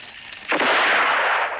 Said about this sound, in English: He was able to shoot the spur